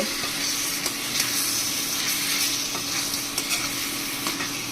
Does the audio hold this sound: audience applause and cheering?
no